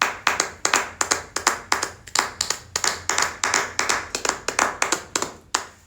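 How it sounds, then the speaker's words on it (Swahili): A classroom of students clapping in unison for a classmate, close, loud, rhythmic bursts of claps in repeated patterned groups, with short pauses between them. "Hebu tumpigie makofi kadha wa kadha"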